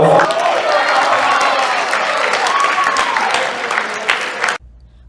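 Audience applause with cheering after a mind reading act at a high school prom show, a dense, loud burst of clapping and crowd noise sustained for over four seconds, then cutting off abruptly.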